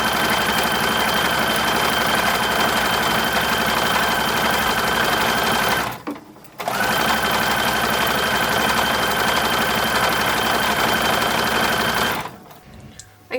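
A sewing machine runs continuously and loudly up close as 1930s-style tap pants and a bra are stitched, stopping briefly twice, with a steady mechanical whir and hum and no speech.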